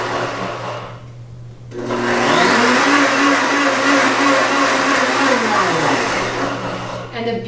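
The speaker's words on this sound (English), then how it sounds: "the beauty of mixing your dressings in the blender is that it doesn't separate" A blender whirs loudly, mixing a light salad dressing meant to be blended with sour cream, spinning up after a brief lull and holding a steady, close roar with a shifting motor pitch.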